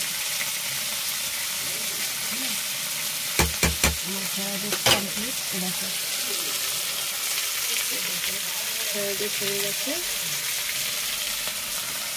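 Chili chicken stir-fried in a pan gives a steady broadband sizzle throughout, with a few sharp utensil clacks around the middle and faint scraping stirs afterward.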